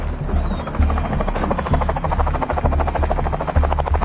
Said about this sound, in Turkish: İşte bu helikopter.